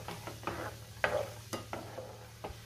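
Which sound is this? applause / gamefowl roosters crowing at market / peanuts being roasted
peanuts being roasted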